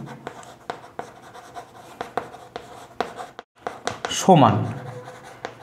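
Chalk or marker scratching across a board during a class 6 ratio lesson, in short repeated strokes with a longer rubbing burst near the end, under a teacher's intermittent speech.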